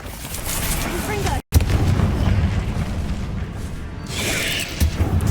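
A Confringo fire spell explodes in Hogwarts Legacy with a loud, sustained blast and rumble, cutting out briefly before the roar resumes and trails on, with a brighter burst near the end.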